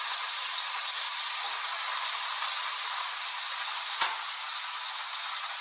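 Fish sizzles in a hot pan while cooking for a Jamaican ackee dish, a steady, even hiss held close throughout with one brief click partway through.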